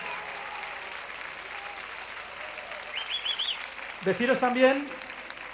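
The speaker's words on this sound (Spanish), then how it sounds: "quiero que se lo agradezcamos todos con este fuerte aplauso" Clapping from an audience at a gala during a pro-life rally fills the scene with steady, moderately loud applause, with a person speaking over it near the end.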